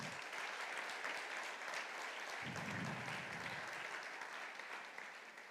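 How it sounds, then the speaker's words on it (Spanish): A church congregation bursts into sustained applause that holds steady and fairly loud for several seconds, with a hint of voice beneath the clapping. "Dele un aplauso al Señor."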